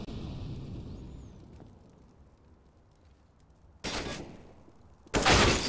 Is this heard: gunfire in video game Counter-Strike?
yes